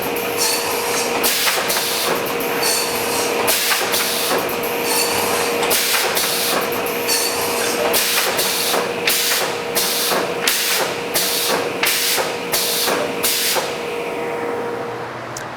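Saws of a 979-2 machine starting up and running loudly and close, a steady mechanical drone with a constant tonal hum, broken by rhythmic bursts of cutting noise that repeat regularly and then stop near the end.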